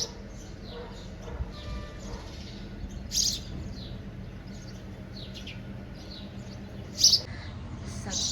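Sparrows chirping around a house, thin scattered tweets over a low background hum, with two louder, sharper calls standing out.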